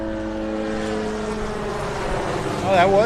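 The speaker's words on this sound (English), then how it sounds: "Oh, that was the mosquito chopper." A mosquito-control helicopter passes over Vanderbilt Beach in North Naples, Florida, its droning rotor and engine tones steady and fairly loud, swelling near the end as it draws closer, with people talking over it.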